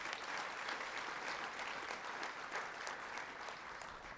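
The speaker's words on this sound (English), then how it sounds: "So please give them another round of applause." Steady audience applause at an Alberta volunteer awards ceremony, a dense, continuous patter of many hands clapping at moderate distance, holding evenly for about four seconds with no talk over it.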